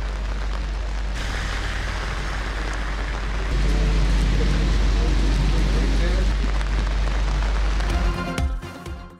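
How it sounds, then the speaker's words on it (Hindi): Heavy rain pours down over Islamabad, a dense, steady hiss that grows louder and fuller partway through with a deep low rumble beneath, then tapers off at the end. "इस्लामाबाद में बारिश का जोर।"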